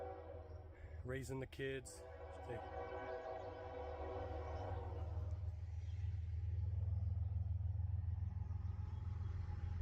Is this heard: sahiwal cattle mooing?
no